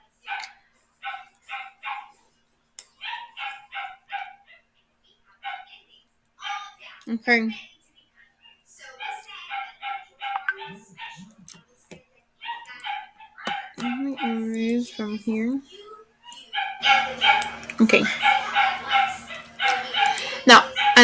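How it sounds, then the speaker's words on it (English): A dog barks repeatedly in the background during an online math class, sharp yips in quick clusters and some whimpering, with a voice speaking at intervals. "there's this dog here that doesn't stop barking."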